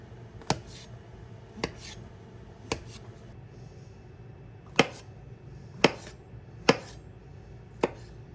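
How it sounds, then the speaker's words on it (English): Mushrooms are sliced into quarters with a Bubba Blade chef's knife. Eight sharp, crisp chops land close by on a board at uneven intervals against a quiet background. "We're going to cut them into 4 pieces each."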